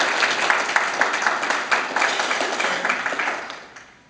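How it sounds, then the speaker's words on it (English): Sustained applause from a large state convention audience, a dense wash of clapping that holds steady and then fades out near the end. "So give them please a round of applause."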